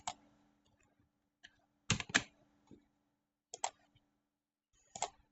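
A channel name typed on a computer keyboard in short clustered bursts of clicking keys with pauses between them, close and clear in a quiet room.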